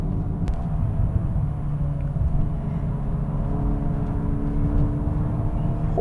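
Volkswagen Golf R 20 Years Edition engine pulling hard, a steady deep rumbling drone with road roar from inside the cabin, loud and continuous without talk.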